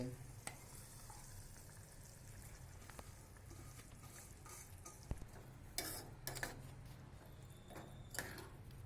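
Boiled horse gram tipped into hot oil tempering in a pan, giving a steady low sizzle and frying hiss with occasional stirring clicks and scrapes, close and moderately quiet, no talking.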